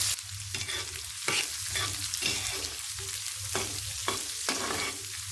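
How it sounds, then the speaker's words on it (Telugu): Onions frying in oil with mustard and cumin seeds, stirred in regular scraping strokes about every half second over a continuous sizzle, close and fairly loud with no voices. "ఆనియన్స్ బాగా ఫ్రై అవ్వాలి"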